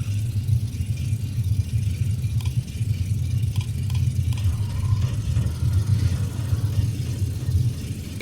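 Ford Tri-Motor in a flight simulator with all three engines running, giving a loud, steady low droning rumble that holds throughout with a slight pulsing beat.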